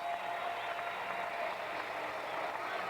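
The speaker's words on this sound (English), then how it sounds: "The crowd loves Randall, boy" A basketball arena crowd at a 1998 Tennessee vs Florida women's game applauds, a steady wash of clapping and cheering heard at moderate distance.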